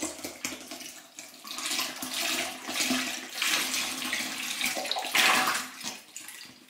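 Just over a liter of cold milk poured in a steady, gushing stream into a pot or bowl, a close, continuous splashing rush that swells and eases, with no voices.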